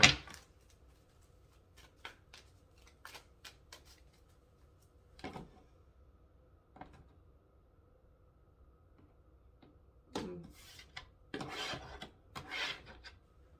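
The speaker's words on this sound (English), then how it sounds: "Let's do one more shuffle." Tarot cards being shuffled, a soft scattered riffling and rubbing of the deck in short bursts, quiet and close, with a busier flurry near the end.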